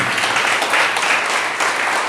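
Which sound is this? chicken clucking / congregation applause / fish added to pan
congregation applause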